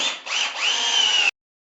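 Power tool whirring as it tightens beadlock bolts on a Jeep Wrangler wheel with Hutchinson beadlocks, one steady high-pitched run of just over a second that stops abruptly, close and fairly loud.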